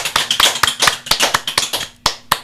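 A quick round of hand clapping at the start of an episode of a Japanese talk show, a dozen or so sharp claps in a loose, slightly uneven rhythm, close and fairly loud, with no talking over them.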